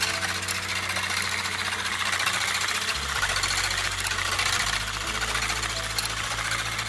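Electric mixer whipping egg whites for a Nutella soufflé, a loud steady motor whir with a rattling buzz that shifts pitch as the beaters move through the bowl.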